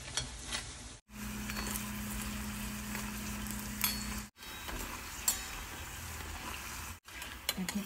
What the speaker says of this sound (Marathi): चला त्याच पद्धतीने आपण उरलेले तळून घेऊया